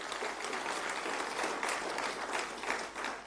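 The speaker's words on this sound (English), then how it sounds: "Can we give them a big round of applause?" An audience at a BRICS TVET institution seminar gives a sustained round of applause, dense steady clapping filling the room for several seconds.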